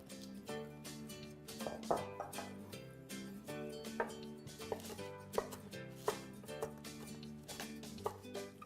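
Sharp knife taps on a cutting board at an irregular pace as vegetables are chopped, mixed with steady music playing throughout.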